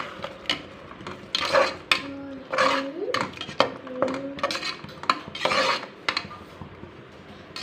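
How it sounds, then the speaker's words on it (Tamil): Tomato paste and ginger garlic paste are stirred in a pan for vegetable biryani: a metal spoon scrapes and clatters in irregular bursts, with short squeaks between strokes, close and fairly loud. "இப்போ நல்லா கலந்து விட்டுக்கலாம்."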